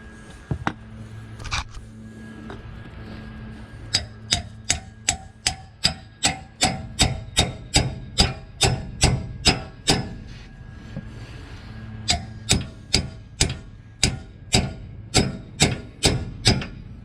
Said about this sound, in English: all that now is popping out that ball joint